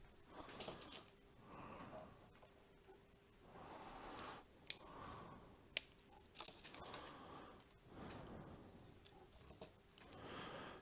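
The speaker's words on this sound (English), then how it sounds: "With the next 2 straws, cut one of them to be 5 inches long" Plastic drinking straws being snipped with scissors, a series of sharp separate cuts with soft handling rustles between them, close and fairly quiet.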